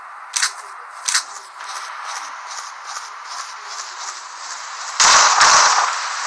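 Gunshots in the top-down video game Surviv.io, two sharp loud shots close together at the start over a steady game noise bed, followed later by a heavier burst of sound.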